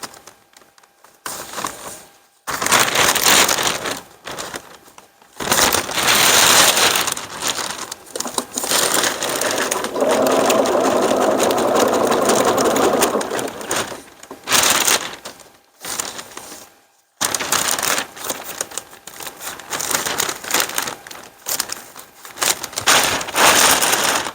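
A sewing machine stitches fabric in uneven bursts, with a steadier whirring run in the middle, close by and fairly loud, broken by short pauses and rustling handling.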